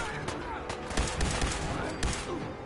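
Rapid gunfire in the Fallout 4 video game, a burst of several sharp shots in quick succession, loud and close, with a voice talking over part of it.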